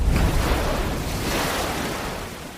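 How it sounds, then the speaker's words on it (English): Ocean waves lapping on a beach shore on Amram Island, with a breeze: a steady, close wash of surf and wind noise that swells slightly and then eases, with no other sounds. "the ocean breeze at my back, and the lapping of waves on the shore"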